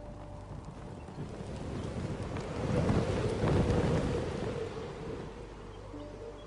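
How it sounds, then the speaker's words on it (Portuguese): Wind blows from the northwest in a low, rushing roar that swells in the middle and eases off again, a steady gusting noise with nothing else prominent. "Está soprando um vento do noroeste."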